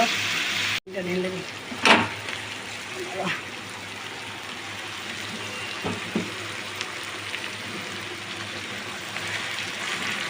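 Potatoes and onions frying in a pan, a steady broad sizzle throughout with a few stirring clatters, heard close and moderately loud, with occasional faint voices in the background.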